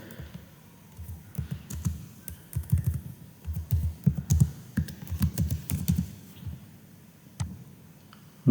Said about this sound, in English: We have to type the name of that sheet here.